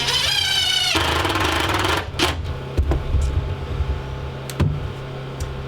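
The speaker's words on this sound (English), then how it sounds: "I'll pop a couple of more screws in there right now." A power driver whines briefly as it sinks a screw into green wood deck boards on an Alaska cabin deck, then cuts off, followed by a few scattered knocks and handling noises, close by and loud.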